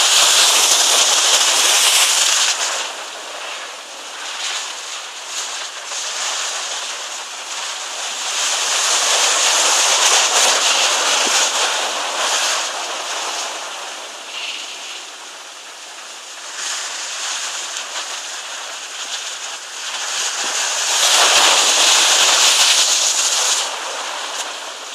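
Sea waves surging against the cliffs at Bedruthan Steps, a continuous broad roar of surf that swells and recedes in slow waves, loud and close, with no voices.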